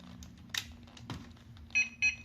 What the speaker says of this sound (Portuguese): Ok, deu 3 bips aqui.